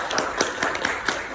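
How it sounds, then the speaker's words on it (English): An audience at a comedy roast night in Dubai claps in a brief burst, the scattered hand claps fairly close and lively, with no talking over them. "Louder, louder, more claps, maybe?"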